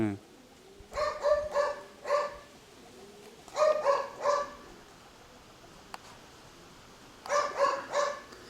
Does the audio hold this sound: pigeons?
yes